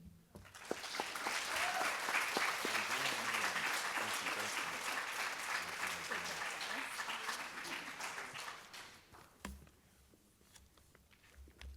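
An audience at a hall of fame induction ceremony claps steadily for about eight seconds in an indoor hall, then fades as a voice starts speaking.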